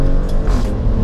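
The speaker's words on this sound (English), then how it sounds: "Dave has put his in the sport mode that the Range Rover Sport SVR has, and as you can hear" A Range Rover Sport SVR in sport mode gives a loud, close engine rev, a deep, throaty roar that holds steady through the short moment.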